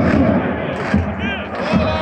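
Pyrotechnics going off among Dinamo Zagreb football fans in the north stand of a stadium during a match against Osijek, dense crackling thumps and bangs over a loud roaring crowd, with a voice over the public address.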